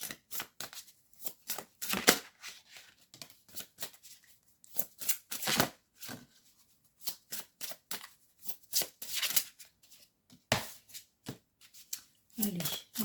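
Tarot cards are shuffled by hand in repeated quick riffles and soft slaps, close and fairly faint, with short pauses between bursts and a voice speaking over them.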